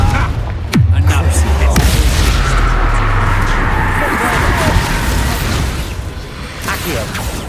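A Confringo fire-blast spell in Hogwarts Legacy hits with a loud booming impact, then a rumbling crash fades out under lingering battle noise while a voice calls the spell.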